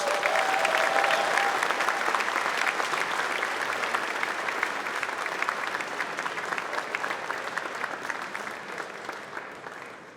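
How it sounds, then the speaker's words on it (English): Indoor audience at a youth basketball center ribbon-cutting ceremony gives the mayor sustained applause, many hands clapping steadily for ten seconds and gradually tapering off, with faint voices underneath. "Please give the mayor another round of applause"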